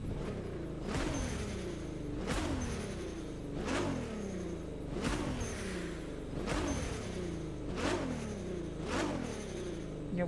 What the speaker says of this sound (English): Not only is the backfire sound different, and the blow-off valve as well.